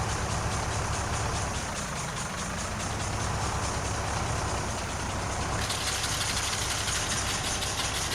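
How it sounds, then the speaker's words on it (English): A tractor engine in Farming Simulator 19 runs steadily and loudly throughout, a rough mechanical rumble with a rattling, laboring quality and no pauses. "It sounds like the tractor's breaking down."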